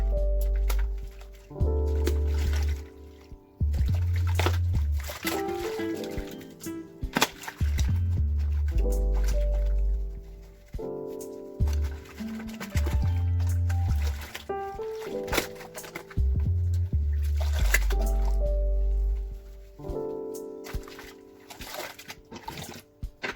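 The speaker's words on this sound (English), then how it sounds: "we're going to put the hair back in and making sure we still do that kind of hand wash motion" A wig is hand washed in water with a repeated squeezing and kneading motion, giving wet, squishy sloshes in a loose rhythm that is close and fairly loud, broken by short pauses.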